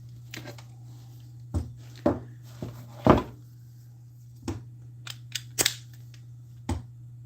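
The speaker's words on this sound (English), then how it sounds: "So I got the nuts and bolts right here. What I'm gonna do is just try to stick them back on there." Sharp metallic clicks and clanks, about ten irregular hits, as nuts and bolts are fitted back onto a truck seat under repair, with a steady low hum behind.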